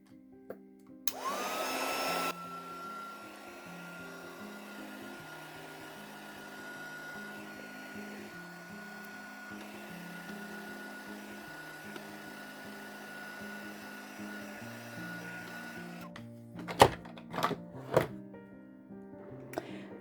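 A heat tool blows steadily for most of the stretch while drying embossing powder in a journal, a constant whirring hiss that starts and stops with clicks, followed by a few sharp knocks near the end.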